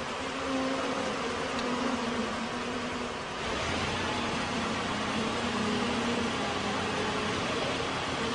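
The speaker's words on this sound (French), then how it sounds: "Car ce sont bien les abeilles, complètement désorientées, qui aujourd'hui ont besoin d'aide." Swarm of disoriented bees in a dense, continuous buzzing drone, loud and steady throughout with slight shifts in intensity.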